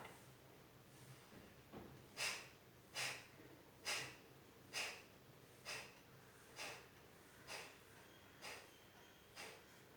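Kapalbhati breathing with forceful nasal exhalations, about nine sharp evenly spaced puffs roughly one per second after a short pause, close and clear in a quiet room.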